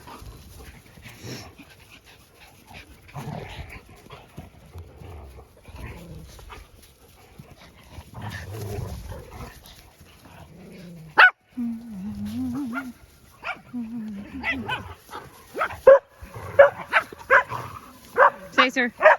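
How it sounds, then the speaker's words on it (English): Dogs bark and yelp in short bursts, some close and sharp, with panting and whimpering mixed among people talking in the background. "The dogs are being crazy."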